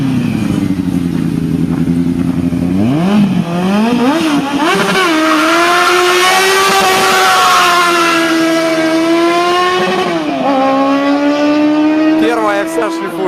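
A Zaporozhets car fitted with a Yamaha R1 motorcycle engine revs hard and high, its pitch sweeping up and down through repeated surges, loud and close, while people talk and shout over it.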